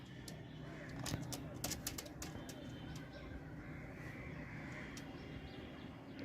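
Molting pigeons coo in low, soft murmurs under a quiet background, with a few sharp clicks and flaps scattered near the start.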